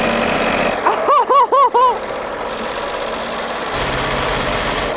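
A car engine running with no oil, held at about 2000 RPM, drones steadily and close, with a harsh rattling through it and a few brief tonal warbles near the start.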